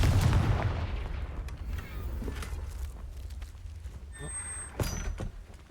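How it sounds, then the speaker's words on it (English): A Confringo fire spell blasts in Hogwarts Legacy with a loud, booming impact that rolls off into a decaying rumble, followed by a few fainter game clanks and a short bright tone. "Confringo."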